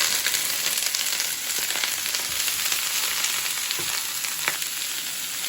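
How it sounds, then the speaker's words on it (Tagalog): String beans sautéing with onion in a hot pan: a continuous, even frying sizzle with a few light crackles and clinks. No one speaks over it. "Gisahin muna natin with uh, sibuyas. Ilagay na po natin ang sitaw guys."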